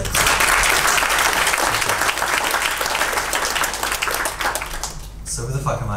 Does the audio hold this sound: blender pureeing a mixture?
no